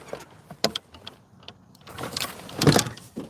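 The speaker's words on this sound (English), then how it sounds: "As you can hear, I'm opening up my car." Someone opens a car and a power window runs, giving a soft click, then a rising electric whir with a mechanical rattle near the end, heard close by with no talking.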